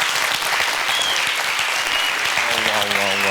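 An audience at a science symposium applauds steadily after a talk, a dense burst of clapping that carries through with voices and a short musical tone emerging near the end.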